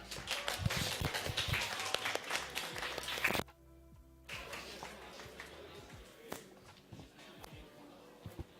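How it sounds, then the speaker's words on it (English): An audience applauds to welcome a speaker at a tech demo day event, a dense burst of clapping that stops abruptly, followed by quieter room noise with scattered knocks and shuffling. "Please give a round of applause."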